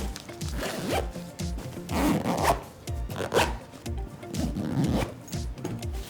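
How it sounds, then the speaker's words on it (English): Repeated quick zipping strokes as the secondary compression zipper on a lightweight ripstop fabric packing cube is pulled closed, a steady run of rasping pulls close up and alone, with no talking. "and zip up the secondary zipper."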